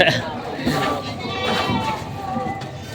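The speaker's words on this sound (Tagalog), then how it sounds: "Yan mga pangkatay na kambing na." Goats being sold for slaughter at a market in Padre Garcia, Batangas, bleat repeatedly at close range, their wavering calls mixing with nearby voices and general farmyard commotion.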